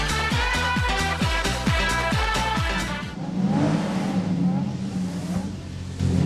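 A rally car's engine revs in the Sega Rally racing video game, rising and falling pitches through quick gear shifts, then settling into a steady droning whine under music-like game sound.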